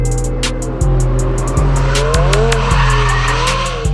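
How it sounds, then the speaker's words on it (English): A race car accelerates hard with repeated tire squeals and skids, the loud engine climbing and dropping through gear shifts, close and continuous. "he's training to become a professional race car driver"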